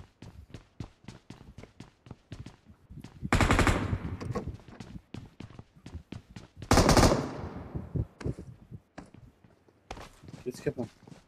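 DBS shotgun fire in BGMI, a mobile battle royale game, with several loud bursts of shots among rapid clicks and footstep-like taps, while a person talks over it.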